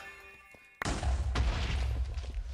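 TNT explosion in the video game Minecraft, modded Vault Hunters: after a quiet tonal moment, a sudden loud blast erupts and a heavy rumbling debris roar follows and holds to the end.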